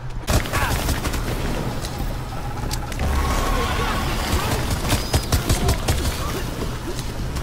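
Rapid bursts of gunfire from Rainbow Six Extraction, loud and sustained across the whole stretch, layered with dense in-game combat noise.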